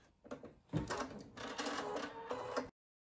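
A Husqvarna Viking embroidery machine stitching white felt in a hoop, a steady, close mechanical whirring and rapid needle clatter that runs for a couple of seconds after a few soft clicks, then stops abruptly.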